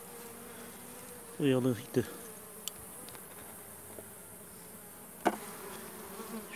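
Honey bees at a weak hive being inspected for the queen: a close buzz passes briefly over a faint, steady hive hum, with a short spoken word.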